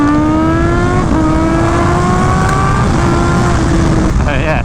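A loud, close Kawasaki ZH2 supercharged motorcycle engine revs steadily upward under acceleration, its whining pitch climbing throughout with constant wind rush.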